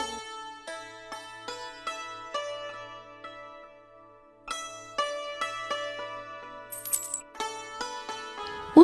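Metal coins dropped and jingling in bright ringing clinks, a run of strikes that fades out, then a second cascade of coin rings and a sharp final clatter.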